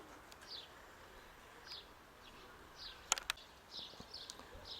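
Pigeons coo softly in the open air, a faint series of short repeated calls from a distance over quiet outdoor ambience, with a couple of sharper clicks partway through.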